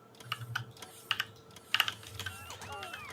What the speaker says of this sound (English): my keyboard sounds would shut up in the next episode